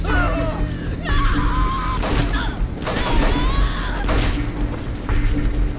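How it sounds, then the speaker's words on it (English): Shotgun blasts in the video game Hatred, several loud booming shots in quick succession with crashing impacts, close and dense, mixed with game action noise. "We switched to our shotgun."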